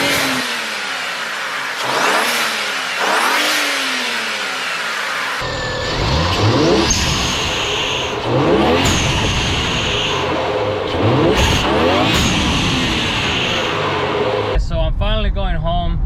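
A car engine fitted with a VRSF charge pipe and HKS blow-off valve runs loudly and revs up and down in several surges, with a harsher, rougher stretch near the end.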